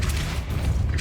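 A booming Depulso spell blast from Hogwarts Legacy fills the moment, loud and dense with a deep low rumble, a single sustained impact lasting about a second.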